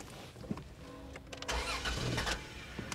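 A car engine on a salvage lot cranks and struggles without catching, a few short turnover bursts and a longer grinding stretch in the middle, close and moderately loud.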